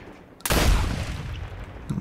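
Gunfire in the video game Turning Point: Fall of Liberty, a sudden loud blast that decays over about a second and a half, followed by a fainter pop near the end.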